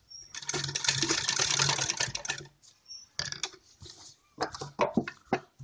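Sewing machine running a straight stitch to attach wide lace along a designer neckline: one sustained run of rapid stitching, then several short, stop-start bursts, close and fairly loud.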